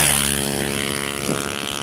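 A noisy motorcycle passing by outdoors, a loud steady buzzing engine drone with harmonic tones, swelling slightly as it nears, no speech over it.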